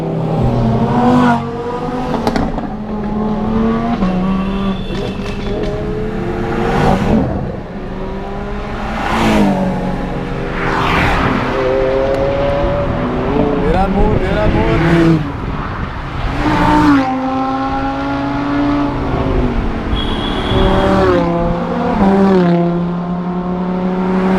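A long convoy of Lamborghini sports cars drives past one after another at the Lamborghini Giro India 2021 in Chandigarh, loud engines revving and roaring as each car passes close by, with no talk.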